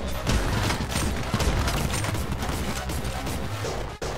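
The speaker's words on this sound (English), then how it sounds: "Grenade launcher." Rapid, dense gunfire and explosive blasts from a grenade launcher in the video game Anger Foot, loud and continuous throughout with a brief dip near the end.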